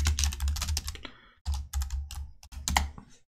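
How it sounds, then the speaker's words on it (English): Fast typing on a computer keyboard, with dense bursts of crisp key clicks broken by brief pauses, close and clear with no voices. "and then just type Jupyter Notebook"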